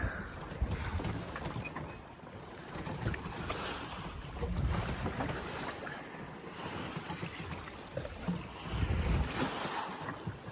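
Ocean waves slosh and surge around a becalmed sailboat with sails down and no engine, a continuous rolling wash with louder swells every few seconds and a faint breeze over the water.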